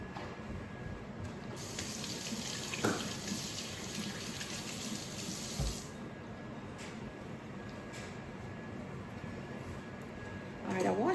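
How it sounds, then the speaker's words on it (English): Tap water runs steadily into a sink while hands are washed beneath it, a continuous close splashing flow with a few brief knocks, ending in a louder burst of water near the end. "I'll have to wash my hands though."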